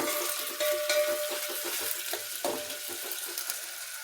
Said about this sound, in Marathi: आपला कांदा भाजलेला आहे